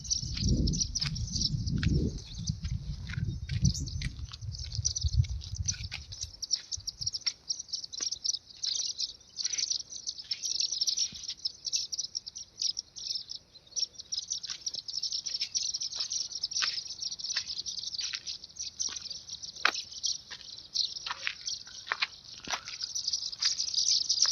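Many small birds, including sunbirds, chirp and twitter in mesquite scrub in Tirunelveli district, with scattered calls over a steady high insect-like buzz and a low rumble in the first few seconds.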